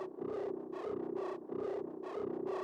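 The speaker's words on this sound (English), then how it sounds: "So this kind of sound is drone or whatever." A modular synthesizer drone runs through a mixer and reverb in a techno patch, pulsing in a steady rhythmic swell of distorted, buzzy tone with no gaps.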